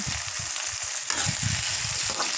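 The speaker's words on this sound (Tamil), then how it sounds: "தக்காளியும் ஆட் பண்ணி நல்லா வதக்குங்க" Onion, ginger-garlic paste and tomato sauté in a pan for chicken gravy, a close, continuous sizzle broken by rhythmic scraping strokes of a stirring spoon.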